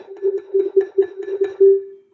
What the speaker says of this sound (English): We had our marimba that sounds like this.